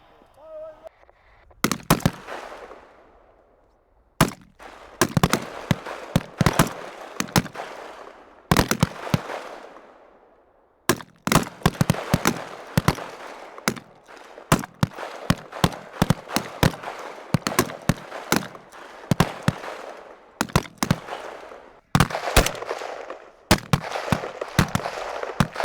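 Rifles fire five-round groupings at a military basic training shooting range, with sharp, loud reports ringing out in scattered volleys at first and then dense overlapping shots from many shooters.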